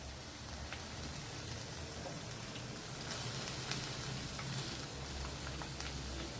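Onion sizzles and crackles in a hot pan while being fried for millet noodles, a faint, steady hiss with small pops and no talk.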